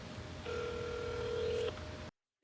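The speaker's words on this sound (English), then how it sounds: "I'm going to start a phone call to the car dealership" Telephone call to a car dealership being dialed: a steady electronic dial tone or touch-tone hum holds for about a second, then cuts off abruptly into silence.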